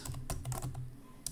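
Computer keys click in a quick, uneven burst of typing, close and fairly quiet, over about a second.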